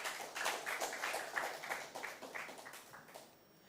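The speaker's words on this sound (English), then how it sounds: "A round of applause for them, please." Audience applause at a quiz show, a fairly brief burst of clapping from a modest crowd that holds steady and then tapers off toward the end.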